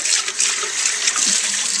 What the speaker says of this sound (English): rinse out that pot that you're going to be soaking the beans in and cooking them in